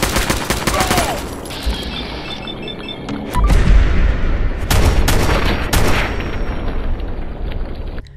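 Semi-automatic assault rifle firing 5mm rounds in a Fallout 4 mod, loud sharp gunshots in quick bursts with heavy booming impacts and a rumbling game background, no talking.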